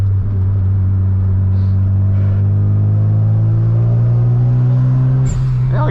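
A Mazda RX-7 FD's engine drones loud and close from inside the cabin while driving, holding a steady low hum that rises slightly in pitch, with a brief bump near the end.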